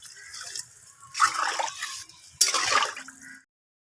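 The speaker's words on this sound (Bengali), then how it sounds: "কষানো হয়ে গেছে, পরিমাণ মতন ঝোল দিয়ে দেবো" Liquid poured into a pan of fried spice paste with salt and turmeric for a katla fish curry, two close splashing pours with trickling between, no talk.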